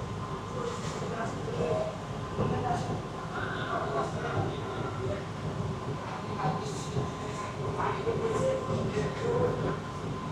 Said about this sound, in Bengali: ट्रेन अब रवाना हो रही है।